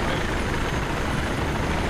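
Helicopter engine and rotor noise in the video game Battlefield 3, a steady loud broadband roar with no pauses and no talking.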